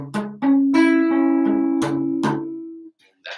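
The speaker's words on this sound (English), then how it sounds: "If you have your low strings muted more than the high strings" Guitar strummed with palm muting weighted on the low strings so the bass is choked while the treble rings: a few short chord hits followed by sustained bright chords, close and clear with no talking.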